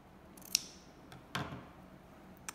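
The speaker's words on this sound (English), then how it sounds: "So I was just trimming that off so I didn't have any pointy outy bits" Scissors trimming fabric while making a needle roll: a few quiet, separate snips spaced apart in a hushed room, each a short crisp metallic click.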